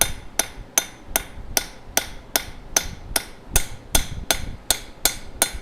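A hammer strikes copper in a steady rhythm, forging a coffee scoop in a blacksmith shop, about fourteen sharp ringing blows, close and evenly spaced with no talking.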